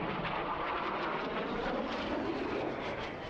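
Red Arrows jet aircraft flying a corkscrew roll around one another, a steady loud broadband roar of engines held throughout with no break.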